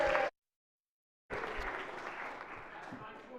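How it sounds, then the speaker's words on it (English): Applause erupts in a state Senate chamber for a senator's birthday after a short burst of sound and a second of silence, then many hands clap steadily to the end. "We give him a round of applause."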